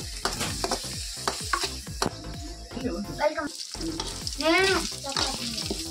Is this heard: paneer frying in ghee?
yes